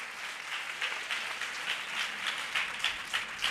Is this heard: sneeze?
no